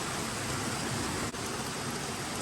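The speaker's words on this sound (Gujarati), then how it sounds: "જો વરસાદ કેટલો ધોધમાર વરસી રહ્યો છે." Heavy rain pours steadily in a dense, even roar with no pauses, close and loud throughout.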